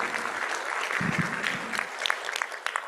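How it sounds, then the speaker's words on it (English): Audience applause at a health equity summit session, a steady wash of clapping from a room of attendees that stays fairly even in level for a few seconds. "Give yourself a round of applause."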